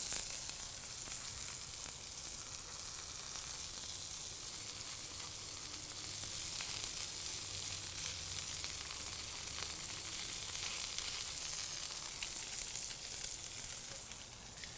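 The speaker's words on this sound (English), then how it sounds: "now we're going to do that Kalua pork, and I want to get just a little bit of a crisp, a little crust on the Kalua pork" Shredded Kalua pork sizzles and crisps in a hot pan, a steady bright frying hiss with faint stirring scrapes, continuous and fairly quiet with no talking.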